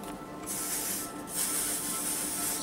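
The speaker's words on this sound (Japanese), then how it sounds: "少しスプレーして、わざとスプレーで粗くして普通に入れます。" Hairspray hissing from an aerosol can onto hair during a hairstyling session, two sustained close bursts separated by a brief pause, no talking.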